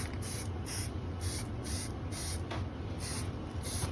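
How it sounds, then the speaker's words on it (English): An aerosol can of varnish hisses in short repeated bursts, about eight sprays in a steady rhythm, close by with no talking. "I'm just going to go and do kind of an initial spray"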